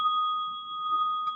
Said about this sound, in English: And with the final bell,